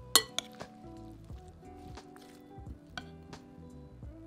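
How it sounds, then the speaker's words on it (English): A utensil stirs honey mustard coleslaw in a bowl, making scattered clinks and light scraping taps against the bowl, close and fairly quiet, with no voice over them. "Now stir all that together"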